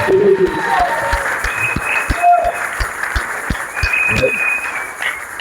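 A church congregation breaks into sustained applause and cheering, a dense wash of clapping with scattered voices and whoops running throughout, with a voice speaking over it.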